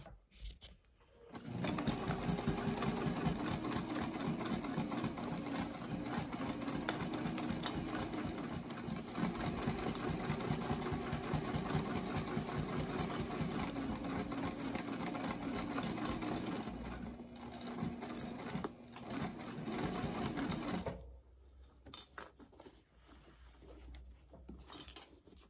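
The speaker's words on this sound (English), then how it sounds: "Switch up to a basting stitch for this." A sewing machine runs steadily on a long basting stitch while sewing a fanny pack lining, a continuous fast mechanical whir lasting about twenty seconds before stopping, followed by faint handling noise.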